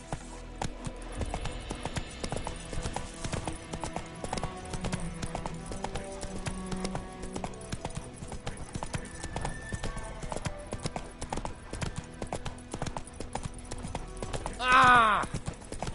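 Hooves clip-clop steadily as Roach the horse gallops in a PS4 game, an even rapid rhythm under game music and effects, with a sudden loud whinny near the end.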